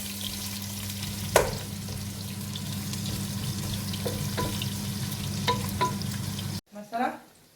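Onions fry in a pan for a chicken curry, giving a steady close sizzle with a few sharp clinks of a utensil, before the sound cuts away to quieter handling at the end.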